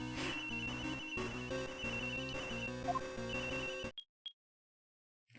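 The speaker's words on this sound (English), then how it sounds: "Literally everyone got a phone call." Several phones ring at once in Ace Attorney Investigations 2, a dense clash of electronic ringtones over game music that cuts to silence, followed by two short separate beeps.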